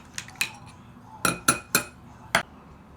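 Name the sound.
spoon stirring yeast mixture, clinking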